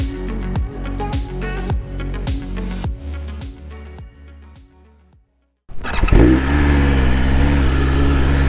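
A 2023 BMW S1000 RR sport motorcycle engine revs in rhythmic bursts through gear changes, fades briefly to near silence, then returns loud and steady with wind rush as the bike rides on.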